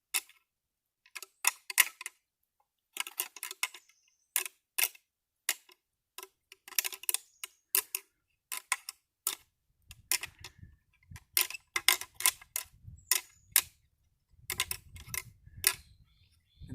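Real shed deer antlers clicked and rattled together softly in the woods, a string of short dry ticks and clacks in uneven bursts with brief pauses, fairly quiet and close.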